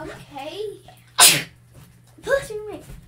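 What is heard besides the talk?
child sneezing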